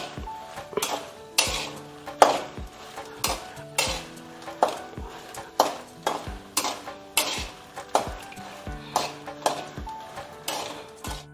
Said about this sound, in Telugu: ఎండుమిరపకాయలు ముందుగా వేయించాలి. కొద్దిగా ఆయిల్ వేసి వేయించాలి దోరగా.